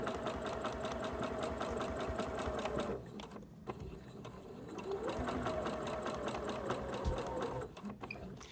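Sewing machine stitching a quarter-inch seam through quilt fabric for a LeMoyne Star block, running steadily and close, pausing briefly midway, then resuming at an even pace.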